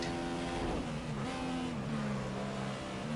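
An F1 race car from the F1 2014 video game accelerates hard, its high engine whine climbing through gear changes with brief dips and steady, loud revving throughout.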